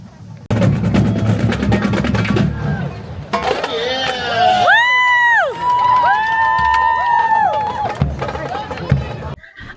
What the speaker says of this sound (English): Marking mile number 1 with the University High School band cheering you on